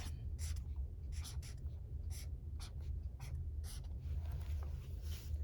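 Handwriting strokes as a teacher writes a short word during a phonics lesson, a steady run of separate scratchy pen marks with brief pauses between them, alone over a low background hum.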